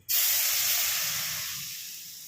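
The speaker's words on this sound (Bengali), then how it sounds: "এতে আমি জল দিয়ে দেবো।" Water tipped into a hot pan of turmeric gives a loud, sudden sizzling hiss that bursts in and slowly fades over a couple of seconds.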